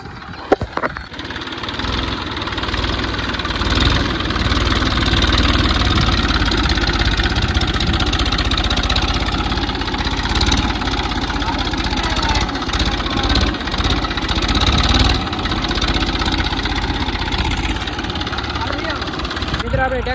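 Tractor engine chugging while ploughing a field, a loud, rough continuous rumble that wavers slightly in intensity over twenty seconds, close by, with scattered voices and clatter mixed in.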